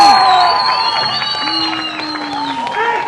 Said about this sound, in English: the crowd are up in arms. They're loving it.